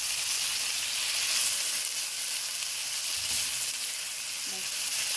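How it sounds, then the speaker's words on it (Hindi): Chicken frying in a pan, a steady, close, even sizzle and crackle that runs unbroken throughout, with no talk. "ये देखिए ज़रा, चिकन फ्राई हो रहा है।"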